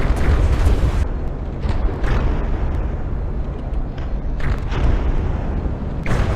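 Shells bursting in the naval combat game From the Depths, a loud continuous rumbling roar of explosions with heavy low booms swelling and fading, dense and close with no voices.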